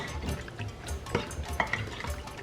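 A spatula works through chicken gizzards blended with onion, garlic, ginger and a spice blend in a bowl, giving soft, wet squelching and faint scraping close by, quiet and uneven.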